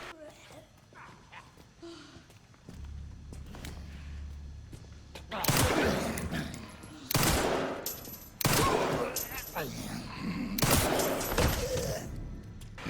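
Gunshots ring out against zombies in Resident Evil Requiem, several loud, separated blasts and short volleys after a quieter stretch of footsteps and ambience, with someone talking intermittently.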